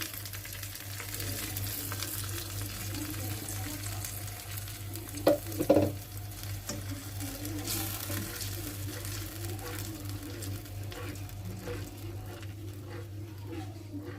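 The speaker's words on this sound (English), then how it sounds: "I'll add my raw chili paste. And then we'll give it a stir." Raw chili paste frying in a pan for homemade Schezwan sauce, stirred through. A steady, moderate sizzle runs throughout, with a couple of brief, louder scraping knocks near the middle and no talking.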